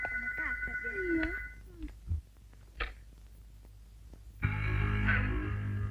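A telephone rings at night in a 1994 Indonesian comedy film, a steady electronic trill sounding for over a second before other voices and noises follow.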